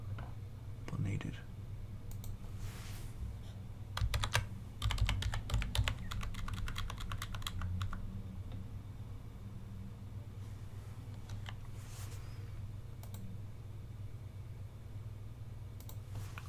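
Typing on a computer keyboard, bursts of rapid clicking keystrokes close to the microphone, busiest in the middle, with quiet gaps and occasional isolated clicks over a low hum.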